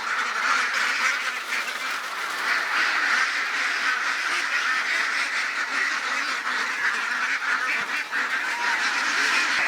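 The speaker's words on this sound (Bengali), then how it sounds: "তো এখন আমি হাঁস ধরবো এবং ওজন দিব" A flock of three-month-old ducks quacks loudly and continuously at close range, a dense overlapping chorus of calls as birds are caught by hand for weighing, with no talk.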